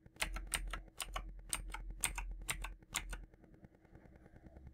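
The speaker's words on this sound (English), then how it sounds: "Let's open command prompt by typing cmd.exe into start menu search box" Rapid clicking keystrokes on a computer keyboard in quick bursts, close and crisp, ending in a brief pause of quiet room tone.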